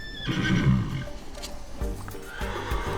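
A horse being assessed for hoof shoeing lets out a loud, clear whinny in the first second, followed by quieter stable noises and faint shuffling.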